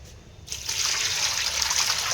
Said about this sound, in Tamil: ஐயோ, என்ன இவ்வளோ தண்ணி ஊத்துறா?